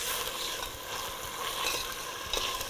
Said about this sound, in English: And just stir it again so all those lovely flavors infuse